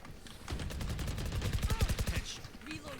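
Rapid bursts of automatic gunfire in the Valorant video game, a close, loud rattling volley with repeated shots building to a dense peak, while voices chatter over the game audio.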